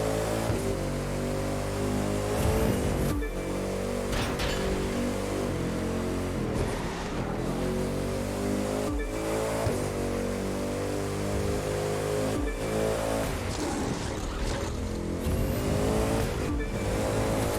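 A hypercar races along a highway in The Crew 2 video game, its engine a loud, continuous high-revving roar with repeated gear shifts and rising pitch sweeps, heard alone throughout.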